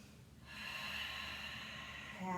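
Yoga breathing in a flowing warrior and triangle sequence: one long, close, audible breath in through the nose, steady and rushing, with no talk.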